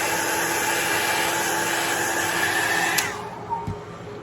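Hair dryer blowing steadily on an alcohol ink painting: a loud, continuous whooshing drone with a motor whine that cuts off abruptly near the end, leaving a quieter room with a faint knock.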